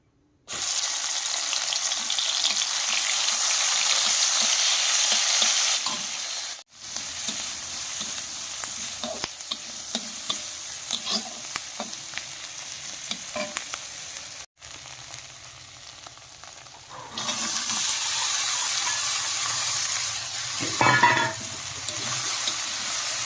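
Kharkon curry cooks in a pan, a loud steady sizzle with stirring scrapes, brief cuts of near silence, and a splash of water near the end.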